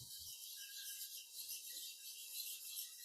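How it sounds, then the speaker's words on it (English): Flat hone rubbed across the bevel of a woodturning tool, a steady, close, hissing rasp of abrasive on steel with repeated strokes and no talking. "just use a flat hone here, and you can just run that across the top to take off what was left of the previous bevel"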